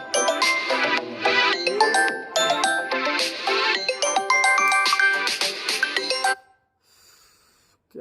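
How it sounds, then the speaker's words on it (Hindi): A mobile phone ringtone plays loudly and steadily for about six seconds as a bright chiming melody, then cuts off abruptly into near silence. "बीच में फोन भी आ रहे, तो साइलेंट मोड पे लगा दें।"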